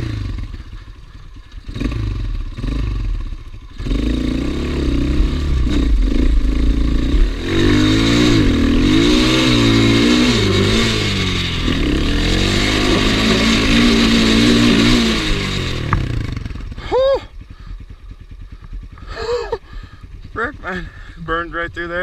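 Gio 250cc enduro motorcycle revving hard up a muddy spring hill climb, a loud sustained engine roar with rising and falling revs, followed by a quieter idle and clatter while a person talks.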